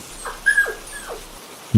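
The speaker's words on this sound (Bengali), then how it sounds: "দরজার বাইরে দুটো কুকুর এসে গুটি গুটি হয়ে শুয়ে কুঁই কুঁই শব্দ করছে" A dog whimpers in a few thin, high descending whines, close by and fairly soft, ending with a short low thump, in a horror story narration.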